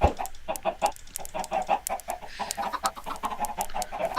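Chickens cluck in a video game, with quick, busy, overlapping clucks at close range that continue steadily throughout and no talking over them.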